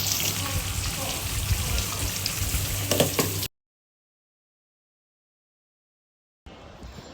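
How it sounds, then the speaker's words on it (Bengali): Mutton being fried bhuna-style in a pan, a dense steady sizzle for about three seconds, then a gap of silence before the sizzling returns more faintly. "এখানে এই খাসির মাংসটা আমি একদম জাস্ট ভুনা ভুনা করে ফেলবো।"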